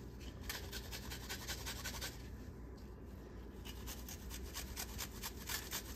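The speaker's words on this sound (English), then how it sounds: "Just grate it down as far as you can." Food rasped on a hand grater in a home kitchen while stuffed artichokes are prepared, a quiet, steady run of rapid scraping strokes, close by with no talk.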